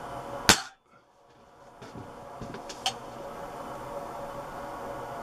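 A Webley Hawk Mk3 airgun fires a single sharp, close crack near the start, followed by a faint click and light handling noise over a steady background hiss.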